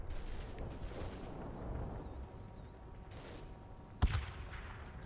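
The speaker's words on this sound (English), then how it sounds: "I am calling in plenty of artillery here. I'm bombing the right hand side of the square flat as best as I can." Artillery barrage in the Combat Mission Black Sea war game: a low rumbling bed of distant gunfire and explosions, with one sharp, louder blast standing out near the end.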